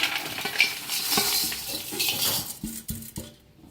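Dry sev is poured into a bowl of spice mix with salted peanuts and chaat masala, giving crisp rustling and clinking against the bowl, with a few sharper taps near the end.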